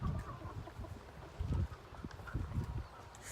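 Ducks chatter softly in short, low bursts, fairly quiet against faint outdoor background noise.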